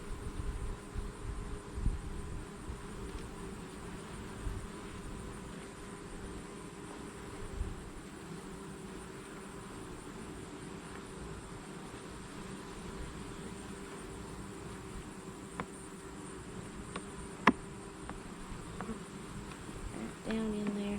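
Steady droning hum of honeybees buzzing around an opened beehive, continuous and even throughout, with a few faint clicks and knocks from handling the hive.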